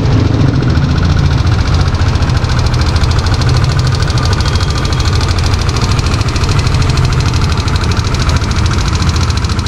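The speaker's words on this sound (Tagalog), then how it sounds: "hindi na maingay yung makina niya." Motorcycle engine idling after repair work, a loud, steady low rumble with fast even pulsing that holds constant throughout, with no voices.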